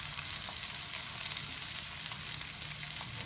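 Chopped onions fry in hot oil for a raw banana podimas, sizzling in a steady bright hiss as they are stirred. Low scraping sounds sit beneath the sizzle, and no one talks.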